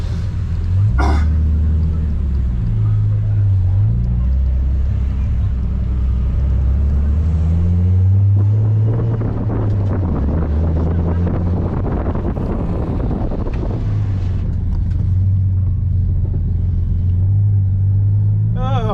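Nissan 350Z engine at a Snetterton sprint practice run, heard as a loud, steady in-car drone with shifting pitch and gear changes, wind buffeting the microphone throughout, and no talk over it.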